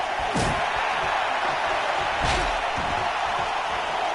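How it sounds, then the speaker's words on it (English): Wrestling arena crowd in the WWE 2K19 video game on PS4, a loud, constant roar of cheering spectators punctuated by a couple of heavy slam impacts, close and dense throughout. "Listen to this crowd."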